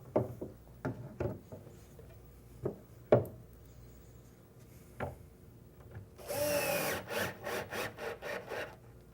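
A power drill drives screws into the hinges of a wooden face-frame cabinet door: scattered sharp knocks and taps first, then a short burst of drill whirring in pulses near the end, close and clear.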